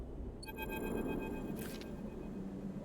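A computer terminal in the video game Citizen Sleeper gives a bright, sonar-like electronic chirp: a cluster of clear pulsing tones, followed by a short burst of hiss before the sound fades into quiet background hum.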